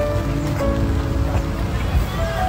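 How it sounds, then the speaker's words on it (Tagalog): Rain falling and pattering steadily on a nearby surface outdoors, dense and loud throughout with no pauses. "Ayan, medyo umulan na po ngayon."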